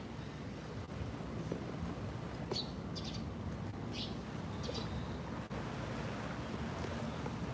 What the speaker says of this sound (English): It was quiet the last couple of lives we did from here, but now we got waves crashing.